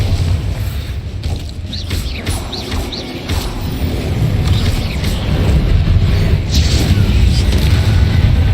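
A Bombarda spell explodes in a video game, heard as loud, low rumbling booms with crashing debris and sharp impacts that grow denser and heavier toward the end.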